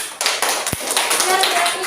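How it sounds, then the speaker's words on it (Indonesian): Children in a classroom give a round of applause, a dense burst of clapping that runs for the full couple of seconds with one sharper clap standing out, while a teacher's voice carries over it. "Beri tepuk tangan anak-anak"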